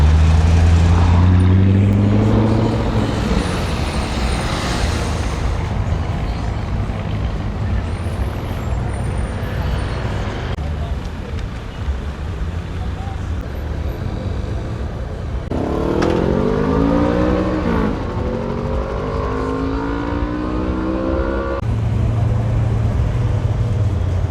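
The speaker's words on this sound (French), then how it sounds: "un petit pot d'échappement, il n'y a pas besoin de casque pour que ça fasse un bruit du diable" A powerful muscle car engine rumbles and revs nearby, its deep exhaust through a small muffler rising and falling in pitch through several throttle swells.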